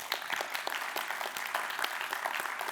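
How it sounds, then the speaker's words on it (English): An audience at a motivational speech on reaching your potential as a man gives a round of applause, a short, fairly quiet burst of scattered clapping from the room. "Give him a round of applause."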